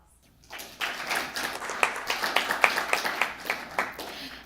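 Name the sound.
audience applause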